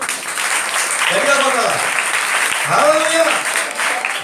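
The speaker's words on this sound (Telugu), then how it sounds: "చప్పట్లు కొట్టండి." A church congregation claps together in a sustained burst of applause, with a preacher's voice talking over it.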